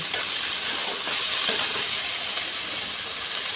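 Ginger and garlic paste frying in a pan for a fish curry, a constant bright sizzle close by with faint stirring touches and no voices.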